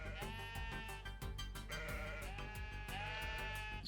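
Sheep bleat in a pen in the video game Necesse, several wavering bleats overlapping in a loud, continuous stretch layered over a dense tonal background.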